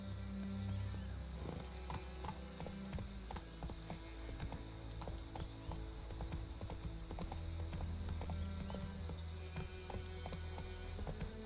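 A horse's hooves clip-clop at a steady walking rhythm in The Witcher 3 video game, close and clear over a continuous background of chirping crickets.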